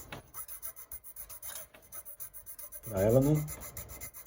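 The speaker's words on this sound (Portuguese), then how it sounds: "Eu vou limar ela já inclinada um pouco para baixo, porque eu quero que a corda entre inclinada também" A file rasps at an angle across a guitar nut slot while adjusting string height, light rhythmic strokes building to a louder scraping burst, with brief speech.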